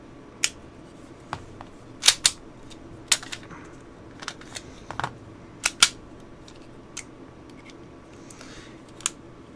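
Parts of a Ruger 22/45 Mark IV pistol being handled during reassembly, with sharp isolated clicks and snaps spaced irregularly over a quiet background, close and crisp.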